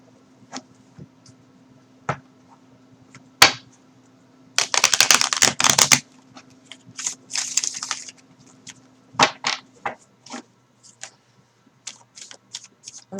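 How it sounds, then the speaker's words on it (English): Tarot cards being shuffled and dropped by hand, giving irregular soft flicks and riffled bursts, with a dense run of snapping cards midway and scattered taps around it over a faint steady hum. "I'm just shuffling the cards to get the energies going."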